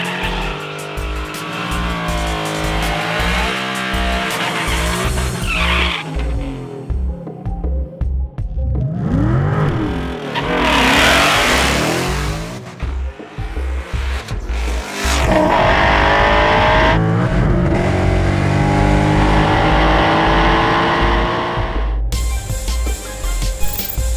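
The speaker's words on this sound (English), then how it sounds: "Supercharged car is the bone stock car with our supercharger kit on it." A supercharged 2015 Ford Mustang, a stock car fitted with a supercharger kit, roars around a track, loud and close, revving hard through gear changes with tire squeal and skidding, engine pitch sweeping up and down.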